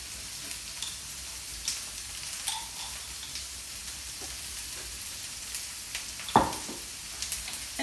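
Crushed garlic sizzling in a frying pan, a quiet continuous crackle with scattered ticks and one sharper clatter partway through, no voices over it.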